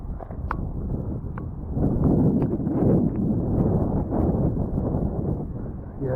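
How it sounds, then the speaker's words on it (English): Outdoor wind buffeting a microphone, a loud continuous low rumble swelling midway, with faint clicks and knocks mixed in. "Boy, this wind is blowing."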